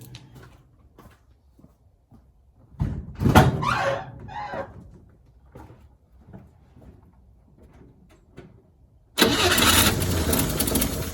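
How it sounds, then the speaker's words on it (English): A 1957 Chevrolet Bel Air engine being started: a short cranking burst that briefly catches and dies, quiet clicks and shuffling, then a loud roar as it fires and runs steadily, close by. "Let's start it back up, see what happens."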